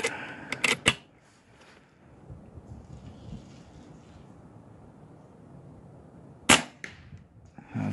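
Two sharp airgun shots from an RTI Priest in .25 calibre fired outdoors in wind, one at the start and another near the end, each a crisp loud crack with quiet breezy background between.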